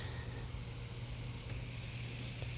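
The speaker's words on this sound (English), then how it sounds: "And now this sauce is reducing beautifully." Lemon pepper sauce sizzles steadily as it reduces in a pan with chicken breast, a constant close frying hiss with no talk.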